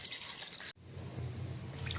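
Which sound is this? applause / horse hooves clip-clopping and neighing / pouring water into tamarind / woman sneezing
pouring water into tamarind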